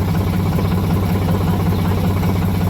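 A tractor engine idles with a steady, loud, low mechanical throb and a regular chugging pulse throughout, and no talking can be heard.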